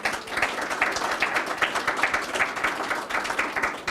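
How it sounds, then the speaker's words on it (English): An audience at a county budget hearing claps steadily and continuously, a dense even patter of many hands at moderate loudness. "give him a round of applause."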